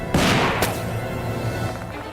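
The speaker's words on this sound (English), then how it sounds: "Another gunshot rings out and the bullet hits the ground near our feet" A sharp, loud gunshot in the video game Death Mark 2 bursts out near the start, followed by a quick second crack and a lingering rumble that slowly fades.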